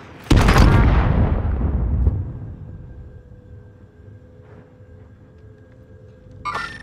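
A rocket fires and explodes in a video game: one sharp, loud blast that rumbles away over about two seconds, then a quiet electronic hum with a faint blip and a brief crackling burst at the end.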